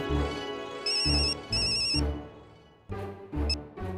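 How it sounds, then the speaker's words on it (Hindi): A telephone rings in bright electronic bursts, two quick rings, a pause, then two more, close and clear with no talk over them. "मैं हाथीप्रा को कॉन्फ्रेंस पे लेता हूँ"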